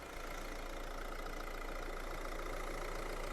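A Renault Megane 4 engine idles with the bonnet open, a steady, even hum holding at constant loudness throughout with no talking.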